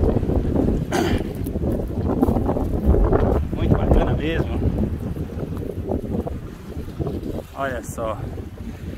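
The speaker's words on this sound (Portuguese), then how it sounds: "Rio São Francisco com esse vento batendo forte aqui" Strong wind gusts over the São Francisco River at a riverside quay in Januária, Minas Gerais, a rough buffeting roar across the microphone, with someone speaking briefly over it.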